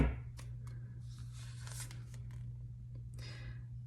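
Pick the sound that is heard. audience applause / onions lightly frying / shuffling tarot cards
shuffling tarot cards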